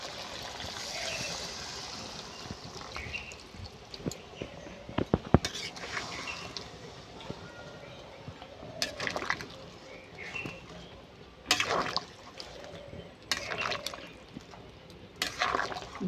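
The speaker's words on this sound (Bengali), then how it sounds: "এবার আমি জল দিয়ে দেবো। এখানে আমি গরম জল করে নিয়েছি" Hot water is poured into a pot of thin mutton and potato curry, a soft, steady liquid stream with a few sharper clatters and knocks from the pot. Faint background noise runs underneath, and there is no clear talk.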